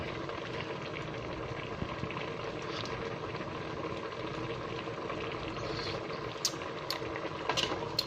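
A pot of Isan-style frog and luffa curry bubbles at a steady boil, a faint continuous simmering hiss and gurgle close by with a few small clinks near the end.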